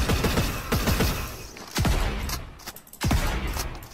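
Bursts of rapid gunfire in Fortnite during a Star Wars season, loud and close, with several volleys of shots separated by brief lulls, no voices over them.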